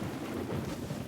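Steady thunderstorm with rain, a dense, continuous rumbling wash of rainfall and low thunder at moderate level, with no voices.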